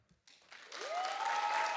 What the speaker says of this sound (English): Will y'all clap that person up?